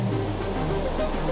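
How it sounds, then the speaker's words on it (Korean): High ocean waves over two metres crashing on a fishing shore in India ahead of a typhoon, a loud, dense, continuous roar of surf with no break. "2미터가 넘는 높은 파도가 해안가를 덮치는데요."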